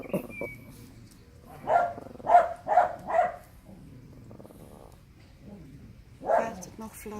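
A few short dog barks or woofs at moderate distance, a quick cluster of three or four followed by one more after a pause, over faint background noise.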